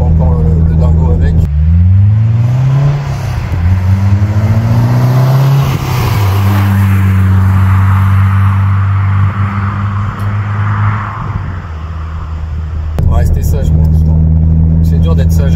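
Renault Clio 2 RS 172 engine accelerating from inside the car, a loud droning rev that climbs in pitch through gears, with someone talking over much of it.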